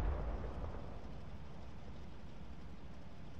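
A Brumba artillery piece firing in a video game, one heavy booming blast at the start that decays into a long low rumble.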